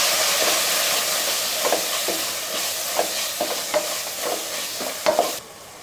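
A spoon scrapes and stirs through sizzling masala in a pan, a constant frying hiss broken by repeated soft scraping strokes, with no talking.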